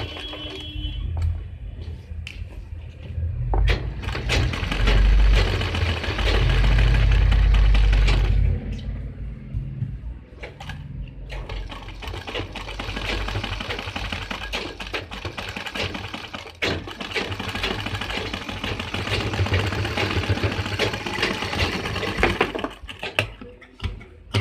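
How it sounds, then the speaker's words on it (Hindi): Sewing machine stitching angrakha-style fabric strips onto a suit neckline, a steady mechanical whirring in continuous runs with a brief pause around the middle, close and fairly loud with no talking. "इसको हम इस तरीके से सिलाई कर देते हैं"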